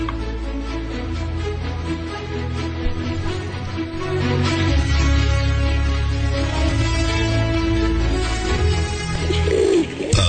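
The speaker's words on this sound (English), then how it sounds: "Thousand pigeons sitting on our tower can't be wrong" Pigeons sitting on a tower coo and call over a loud, dense background of music-like sound that stays continuous throughout, the bird voices blending in rather than standing alone.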